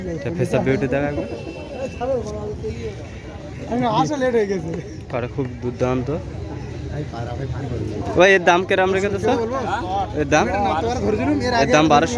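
Pigeons cooing at a busy pigeon market in Bedberia, soft repeated coos mixed under nearly continuous loud conversation from nearby men.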